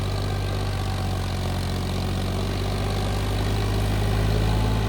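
A John Deere tractor's diesel engine runs steadily through a turn, its revs dipping only slightly under load; a loud, close, continuous low drone fills the whole stretch with no talking.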